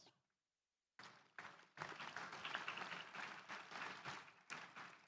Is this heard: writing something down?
no